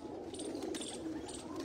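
Pigeons on a Faisalabad rooftop loft coo in low, rolling bursts close by, joined by a few faint higher chirps, with no voices over them.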